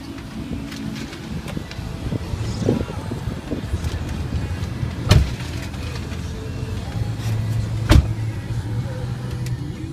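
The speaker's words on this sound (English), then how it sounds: "Let's take you guys on a short test drive and show you how the vehicle drives." A 2004 Nissan Titan pickup truck on a short test drive, with a steady low engine and road rumble from inside the cab, light wind noise and a couple of brief knocks or clunks.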